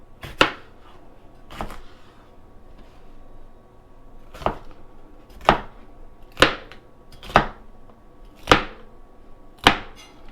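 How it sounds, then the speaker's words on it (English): A knife cuts a red bell pepper into squares on a cutting board. About nine sharp, close chops land at an uneven pace, separated by quiet pauses, with no speech. "we're going to go ahead and cut up a red bell pepper"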